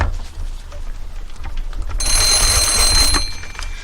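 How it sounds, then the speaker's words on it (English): A Polish TAJ-3MR field telephone bell rings loudly and close, a harsh continuous metallic jangle bursting in after a low mechanical rumble and cutting off near the end. "So it rings loud and clear."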